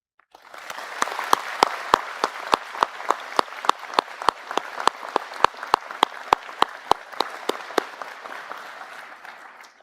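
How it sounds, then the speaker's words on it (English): A convocation ceremony audience at Sheridan College applauds steadily for about ten seconds, a broad patter of many hands with one sharp, evenly spaced clap standing out in a regular beat. "I invite you to provide a round of applause to thank your family and friends who've supported you on this journey"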